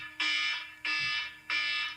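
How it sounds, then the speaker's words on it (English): An electronic alarm goes off in three loud, even, buzzing blasts. Each lasts about half a second and they repeat at a steady pace, close by, with no voices. "It's the Wrap it up alarm."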